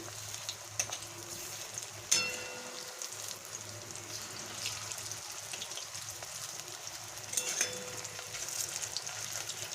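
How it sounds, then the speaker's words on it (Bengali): Pumpkin fritters fry in oil in a pan with a quiet, continuous sizzle, broken by a few sharper crackles and clinks as they are turned. "কুমড়োর বড়াগুলো আমার ভাজা হয়ে গেছে"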